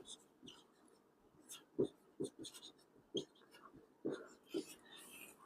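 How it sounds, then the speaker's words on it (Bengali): Chalk or pen writing on a board or paper during a science lesson, a run of quiet scratchy strokes and taps in an irregular rhythm, soft and close. "বাংলাতেও লিখে দিচ্ছি।"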